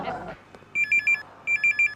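An office telephone rings loudly and close in two bursts of rapid trilled rings with a short pause between them, after a brief voice at the very start.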